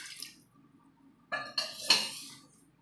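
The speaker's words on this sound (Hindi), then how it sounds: "आधी कटोरी पानी और डाल देंगे" Half a bowl of water poured from a bowl onto sugar in a kitchen pot for sugar syrup, heard as three short splashy clinks in quick succession against a quiet background, with no talking.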